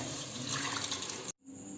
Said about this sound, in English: I am going to add the cooked Lima beans along with the stock, not to waste the water